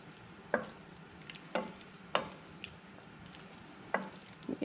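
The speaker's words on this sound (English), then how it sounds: "Kind of stir it up." A spoon stirs quail meat into garden ratatouille in a pot: four or five distinct scraping knocks at uneven intervals, close and moderately loud, over a faint low simmer, with no talk.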